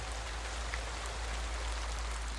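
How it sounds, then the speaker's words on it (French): Steady, dense hiss of heavy rain pouring down onto a sheltering roof in Lithuania, constant and unbroken, windless, with no voices. "il pleut mais fort hein"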